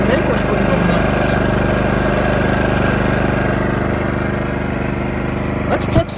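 A steady engine drone from a PowerSmart portable generator runs throughout, quiet, even and unbroken, with a brief clatter near the end.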